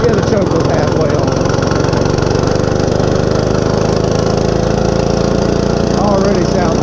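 Up close, the Monster Moto 105 mini bike's small engine runs at a steady idle, a loud, even buzzing putter with a constant rapid pulse, while a voice speaks over it.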